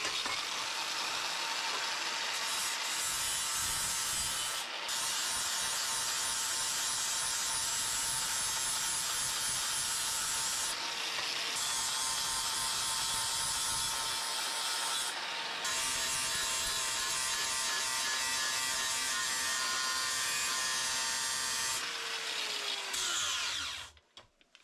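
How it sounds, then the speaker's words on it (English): An angle grinder with a 40 grit abrasive wheel grinding mill scale off steel, a loud continuous harsh whine and rasp that runs for long stretches with a few brief breaks and then winds down at the end. "This, by the way, is a 40 grit wheel."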